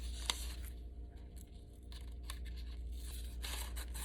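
Scissors trimming a sheet of paper to fit into a school math notebook, making several short snips and soft paper rustles at close range, with no talking.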